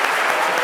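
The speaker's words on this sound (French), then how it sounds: "On les applaudit bien fort." Brief burst of loud, dense audience applause at a live French midday show, close and continuous.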